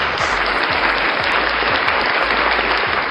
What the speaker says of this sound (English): Round of applause again.